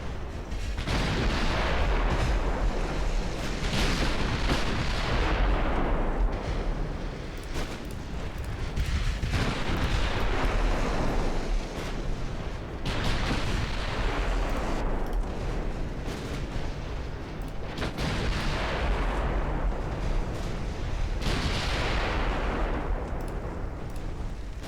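Heavy naval gunfire from a battlecruiser in a warship battle game, several deep booming salvos rolling out one after another, each loud blast decaying into a long rumble.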